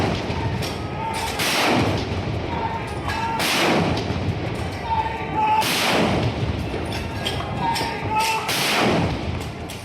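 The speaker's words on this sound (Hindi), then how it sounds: "दिल्ली में भी भारतीय सेना की ओर से औपचारिक सलामी के रूप में 105 mm लाइट फील्ड गन" A 105 mm light field gun fires a ceremonial Independence Day salute, a series of heavy booming reports spaced about two seconds apart, each rolling out with a long echoing tail over steady background noise.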